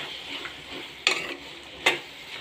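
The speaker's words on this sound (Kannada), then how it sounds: "ಎರಡನ್ನೂ ಚೆನ್ನಾಗಿ ಮಿಕ್ಸ್ ಕೊಡೋಣ." A spoon stirs turmeric and homemade sambar powder into vegetable palya in a pan, making quiet, soft scraping with two sharp metallic clinks against the pan's edge.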